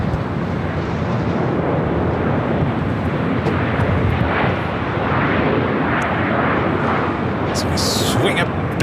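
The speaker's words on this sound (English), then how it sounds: "Next arrival on the north side, EVA Air Flight 16 coming in from Taipei" An EVA Air Boeing 777-300ER from Taipei arrives at LAX, a steady loud broadband jet roar lasting throughout, with faint voices underneath.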